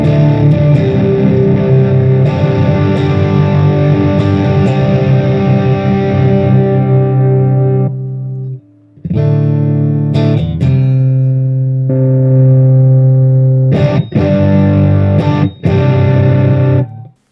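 Electric guitar played through a Boss Katana 100 amp head with extra distortion switched on, loud sustained distorted chords ringing out, breaking off briefly and then returning in several strummed bursts with short gaps.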